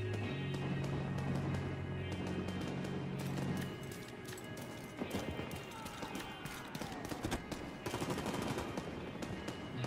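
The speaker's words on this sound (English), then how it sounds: "I hear gunshots." Gunfire crackles in The Division 2, repeated sharp shots scattered through a busy game soundscape over a low droning hum, moderately loud and fairly distant.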